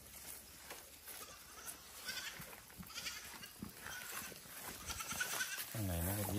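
Goat bleating on a farm amid livestock, a faint wavering bleat rising near the end over scattered background noise, with someone speaking quietly through much of it.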